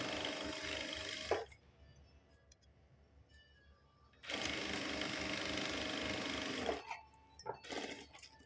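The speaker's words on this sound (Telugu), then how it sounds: "ఇదిగోండి మనం మడిచేసి కుట్టేస్తున్నాం ఇలా మడిచేసి కుట్టుకుంటూ రావాలి" Sewing machine stitching a folded lehenga belt, running in two long loud whirring bursts separated by a quiet pause, followed by a few short stitching spurts.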